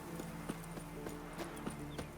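Horses in The Witcher 3 video game clip-clop along a road at a steady walking rhythm, the hoofbeats quiet and somewhat distant over a soft background hum, with no one speaking.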